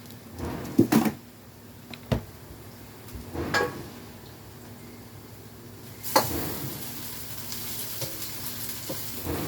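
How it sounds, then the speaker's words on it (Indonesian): Tempeh and spice paste frying in pans on two stoves in a home kitchen in Korea, a soft continuous sizzle with intermittent clatters and scraping bursts of stirring, and a louder surge of hissing near the end. "Yang satu menggoreng tempe, yang satu menggoreng bumbu."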